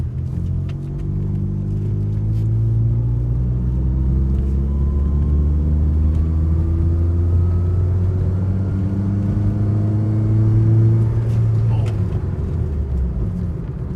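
A Toyota Altis with a 3ZZ engine and five-speed manual gearbox drives along, its steady engine drone rising and falling in pitch as it pulls through the gears, with road rumble underneath and no pauses.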